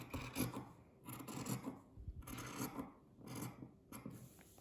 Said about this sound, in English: You now want to just trim quite close to that seam allowance without cutting through your stitching.